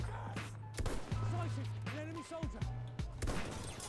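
Rapid gunfire bursts from a first-person shooter video game while the player lands headshots, sharp shots repeating across the clip under a person talking.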